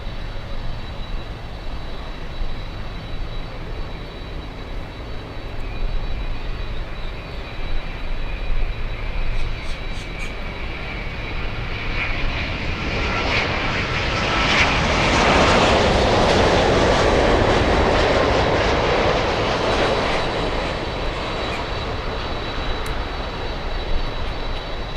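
Airliners at Miami International Airport, with an incoming Boeing 787, rumble and whine through a steady, loud engine roar that swells to a peak midway as a jet passes fairly close, then eases off slightly, no voices.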